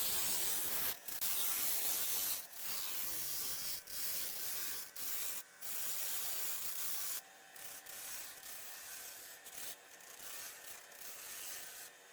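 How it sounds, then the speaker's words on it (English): Steady abrasive hiss of sandpaper worked up to 400 grit against a spinning wooden salt and pepper mill, loud and continuous with brief gaps where the paper lifts off. "Sanding to 400 with the grip."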